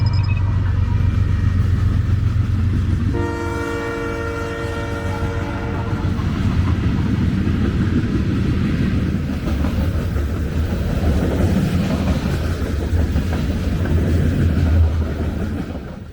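A southbound BNSF manifest freight train rumbles past close by, its horn sounding a long chord early on, followed by heavy continuous wheel and wagon noise with rhythmic clickety-clack that stays loud to the end.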